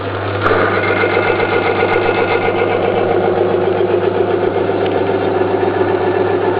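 Small piston engine run with no lubrication at all during a piston lubrication test, a steady, loud mechanical drone with a fast, even rhythmic chatter that holds unchanged throughout, no voices.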